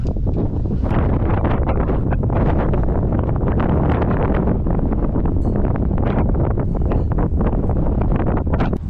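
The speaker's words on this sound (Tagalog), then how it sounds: "Kaya pa sabi nila sa stairway, grabe yung hangin" Strong wind roaring and buffeting the microphone on the Lanikai Pillbox hilltop in Hawaii, loud and continuous with no voices.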